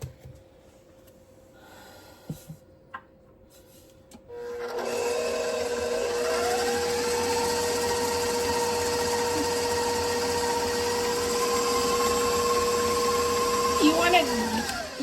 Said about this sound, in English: You want to beat this until you don't see the globs of butter